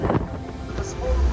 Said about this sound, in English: Very windy when you're moving. So windy It's hard to stand.